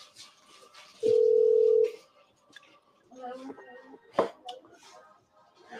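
A steady electronic telephone tone sounds for about a second at moderate loudness, followed later by a brief clattery handset noise, with soft voices talking faintly in the background of a live show.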